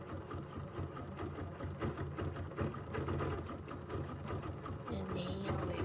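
Embroidery sewing machine running steadily while stitching a large design on a frame, with fibers being couched; a continuous mechanical hum and rapid needle chatter holds at an even level throughout, with no talking.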